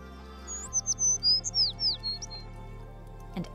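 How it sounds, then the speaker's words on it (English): Sparrows chirp in a quick series of about nine short, high tweets over roughly two seconds, close and clear against a quiet background, followed by a brief soft rustle. "The sparrows chirped"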